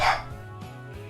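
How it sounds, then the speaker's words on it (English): A dog barks indoors, one sharp loud bark followed by a couple of softer, shorter yips, heard alone without talking. "Sorry about my dog barking."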